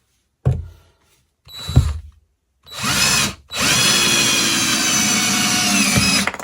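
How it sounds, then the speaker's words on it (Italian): A Parkside PABS 20-Li E6 cordless drill at speed 1 in drilling mode bores a hole for a wall plug: two short revving bursts, then a sustained loud whirring whine lasting several seconds. "Riuscito praticamente a fare tranquillamente il foro, ad avvitare la vite all'interno del tassello."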